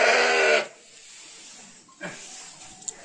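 On a sheep farm during lambing season, a sheep lets out one loud, harsh bleat close by, then after a quiet stretch gives a much softer, shorter call.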